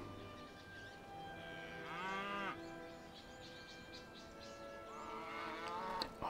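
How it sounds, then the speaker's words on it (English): Cattle lowing in the Civilization V strategy game, two drawn-out moos a few seconds apart over a quiet ambient game soundtrack, fairly soft and distant. "Cows."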